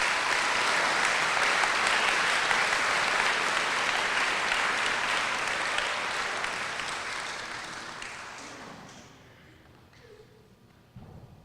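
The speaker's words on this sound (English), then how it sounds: "Please give these people a round of applause." Steady applause from an audience at a school awards night, full and continuous for several seconds, then thinning out and fading to a few scattered claps at the end.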